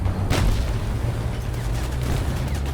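A single loud cannon shot from a tank in War Thunder, a sharp booming blast early on that quickly fades, leaving the steady low rumble of the vehicle's engine running underneath.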